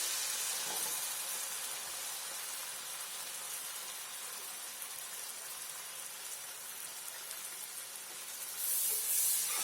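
Onions fry in a pan for efo riro, a steady, fairly faint broadband sizzle that continues evenly and swells slightly at the end, with no talking.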